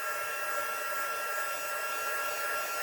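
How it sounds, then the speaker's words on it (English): A heat embossing gun runs steadily up close, a constant airy whirring hiss with a faint high whine, unchanging from start to finish with no voices. "There's going to be a little bit of noise because the heat gun makes noise."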